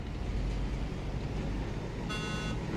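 Vehicle horn in the military game ArmA 3, one steady honk of about half a second near the end, over a constant engine and wind rumble.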